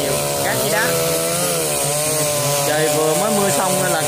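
A chainsaw cuts into a tree stump in sandy, stony ground, its engine loud and close, whining up and down in pitch as the chain bites and eases through the wood.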